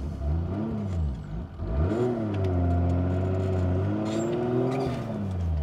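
Turbocharged 2JZ engine swapped into a Toyota Tacoma pickup revs hard at high throttle, a loud continuous snarl that rises and falls in repeated sweeps with strong harmonic tones, no talking.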